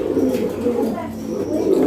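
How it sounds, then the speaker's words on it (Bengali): A pair of foam satin fancy pigeons at a Bangladeshi pigeon farm coo steadily and close by in a low, continuous murmur, with a voice talking faintly underneath. "এখানে দেখতে পাচ্ছেন চমৎকার কোয়ালিটির এক জোড়া ফোম শাটিন"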